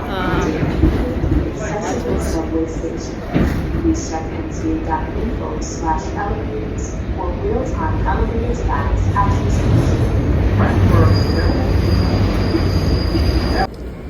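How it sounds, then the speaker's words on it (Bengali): A New York subway train rides through Manhattan toward Times Square with a steady rumbling roll and thin wheel squeals, while voices talk over the noise. "এক জায়গা থেকে আরেক জায়গা যদি যেতে হয়, তখন এই রকম সাবওয়েতে করে।"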